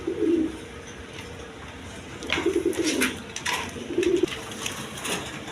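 Lalgola pigeons cooing at a pigeon sale, several low, rolling coos repeating in loose bursts, close and clear over a steady background hiss, with no talk.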